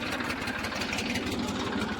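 A farm tractor's diesel engine idles near a corn harvest, a steady low rumbling chug that holds unchanged throughout.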